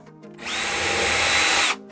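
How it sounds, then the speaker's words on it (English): A power drill with a large bit spins up and bores a hole into a piece of wood, a single steady whining burst of just over a second, close and loud, ending abruptly. "I'm just going to drill a hole"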